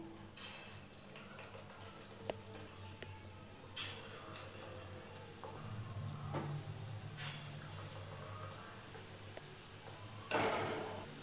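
Aloo chop, spoon-shaped potato patties, sliding into hot oil in a kadai over a medium flame, giving a steady low frying hiss with a few clinks and splashes as pieces go in.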